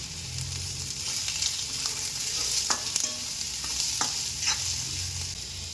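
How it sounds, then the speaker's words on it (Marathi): Onion, garlic and tomato frying for mutton masala, a steady close sizzle with scraping stir strokes and clinks of a spoon against the pan, no voices. "आता मी लसूण टाकत आहे, टमॅटो पण टाकत आहे, त्याच्यात भाजून घ्यायचं"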